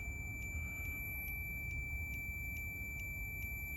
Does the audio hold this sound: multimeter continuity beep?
yes